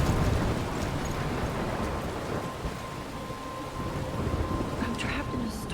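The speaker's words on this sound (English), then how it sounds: "I'm trapped in a storm?" A storm in the video game Life is Strange, with steady heavy rain and low rolling thunder rumbling continuously and loud throughout.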